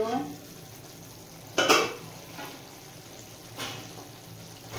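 A spoon stirring boiled potatoes and long beans in a pan for a poppy-seed dish, with a soft steady sizzle and a couple of distinct scraping strokes against the pan.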